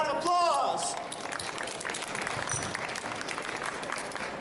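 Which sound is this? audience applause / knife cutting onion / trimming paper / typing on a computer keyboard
audience applause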